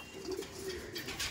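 Pigeons coo faintly in low, rounded murmurs amid the busy background of a Giribaj pigeon market.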